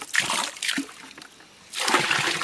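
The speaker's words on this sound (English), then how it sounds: "So I'll just bucket some water in." Water is tipped from a bucket into a hole beside a running creek, filling it for a yabby pump during alluvial gold prospecting: two quick splashing pours, a short lull, then a longer sloshing gush, close and fairly loud.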